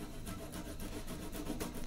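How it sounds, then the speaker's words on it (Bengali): Boiled potato rubbed against a hand grater, a quiet series of soft repeated rasping strokes in an even back-and-forth rhythm, close up with no talking. "এটাও ঘষে নেব"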